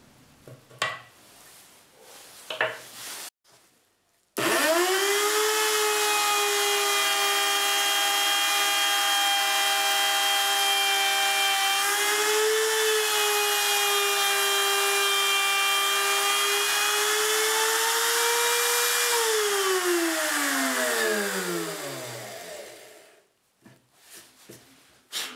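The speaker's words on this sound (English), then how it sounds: "I will use a trimming cutter with an 8mm bearing" Trim router fitted with a trimming cutter and 8mm bearing milling channels into wood for a Renaissance positive pipe organ windchest: a loud, sustained high whine for about eighteen seconds, dipping slightly under load, then spinning down, with brief handling noises before and after.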